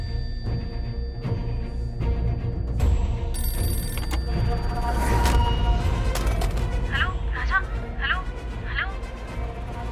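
A telephone rings in a Hindi TV drama scene, with repeated electronic ring bursts under a busy mix of voices and background music, the rings growing clearer toward the end.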